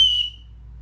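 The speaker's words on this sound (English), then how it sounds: "Actually, not bad for a whistle." A single short, shrill blast from a cheap survival whistle, loud and close, cutting off quickly into quiet.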